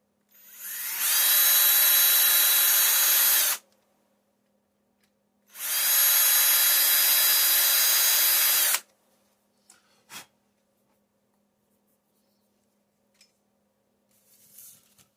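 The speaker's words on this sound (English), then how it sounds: "Using the smallest drill bit that I can find" A power drill with a very small bit whirs in two loud, sustained bursts of a few seconds each, separated by a pause, followed by faint clicks and handling noises.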